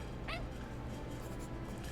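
A dog named Buddy gives a single short, happy bark in the video game Fireside, a brief yip rising out of a steady low background hum.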